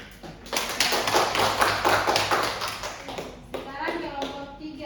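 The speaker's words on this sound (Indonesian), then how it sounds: "Berikan aplaus dulu." Students applaud a classmate's presentation in a junior high school classroom, with a burst of scattered clapping that builds and then fades, and a voice speaks briefly near the end.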